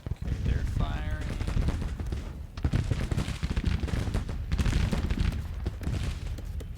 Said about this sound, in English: Okay, they're firing.